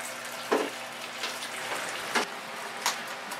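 Wort runs steadily out of the mash tun while a rye IPA is brewed. The splashing trickle has a few brief clunks over it.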